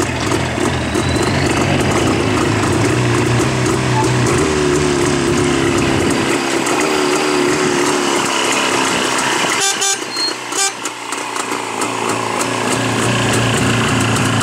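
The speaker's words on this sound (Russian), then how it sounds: "так звучит двигатель с раздельной системой смазки" A JAWA 350 chopper motorcycle with a separate lubrication system runs up close, its loud, raspy two-stroke engine buzzing and pulsing steadily, then dropping to a rougher, thinner idle partway through.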